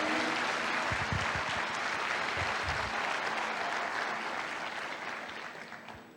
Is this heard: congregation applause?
yes